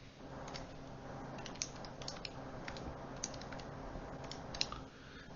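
Keys on a calculator tapped in a quick run of light clicks while a tan⁻¹ angle is entered, faint and close over a steady background hiss.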